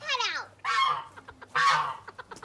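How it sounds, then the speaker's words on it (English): Geese honk in a backyard poultry setting, three loud, close, drawn-out calls in quick succession with short pauses between them, and no talking. "Geese are there."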